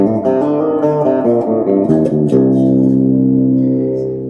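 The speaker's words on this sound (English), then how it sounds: "Now you've got one of your reverbs on the top button." An electric guitar plays a short run of notes, then rings out on a sustained chord washed in reverb that slowly fades.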